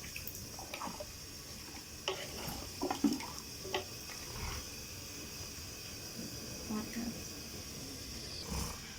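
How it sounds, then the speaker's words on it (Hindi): Oil is stirred into chicken korma in a large cooking pot (deg), with soft wet scraping and sloshing strokes at an irregular pace, quiet and close, under a steady background hum. "जी अब इसको अच्छी तरह से दोबारा मिक्स कर लेंगे।"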